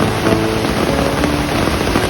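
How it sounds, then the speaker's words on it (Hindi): Heavy rain falls outside in a constant, loud, dense hiss with no break, and nobody speaks. "बाहर बहुत तेज बारिश हो रही है"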